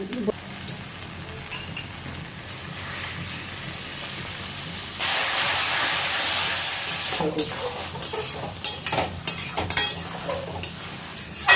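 Bottle gourd curry being stirred and fried in ghee in a pan: continuous scraping and soft sizzling, with a louder hissing stretch midway and scattered clinks from the utensil.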